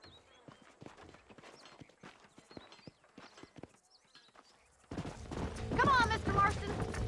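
Horse hooves clip-clop in the Western video game Red Dead Redemption, a quiet irregular patter of hoofbeats that is joined midway by a louder burst of ambient game sound and music.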